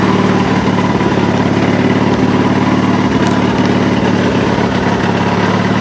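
A Gravely 8199KT walk-behind tractor engine drives steadily in first gear, a loud continuous low drone with constant vibration and a few faint clicks, close up with no talking.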